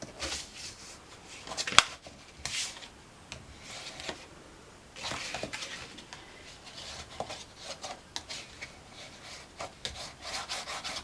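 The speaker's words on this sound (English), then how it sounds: "you're going to fold in and burnish all of your seams" Bone folder burnishing and creasing the paper seams of a footed 6x6x1.5-inch box, a close, dry rubbing and scraping in short irregular strokes with a few sharper taps, no talking.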